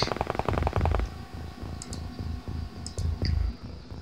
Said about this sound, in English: Someone shot a hole in the fence